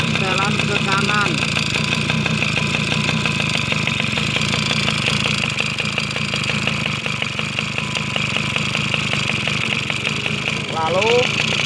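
A two-stroke motorcycle engine idles steadily throughout a carburetor tune-up, a continuous close mid-range drone with faint irregular pulsing, while someone talks over it.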